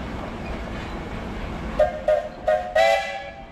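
Four short whistle blasts from a 1919 steam traction engine, loud and fairly close, rising over a steady outdoor rumble at an antique power parade in Sycamore, Illinois.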